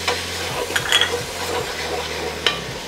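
Soy sauce and sugar sauce being stirred in a hot pan, a steady sizzle with a repeated scraping swirl of the spoon and a couple of light clinks against the pan.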